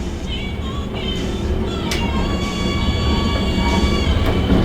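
A 1960s Traction-Master traction elevator car starts hard and rides up, giving a steady loud rumbling hum with faint squeals and clicks, no voices.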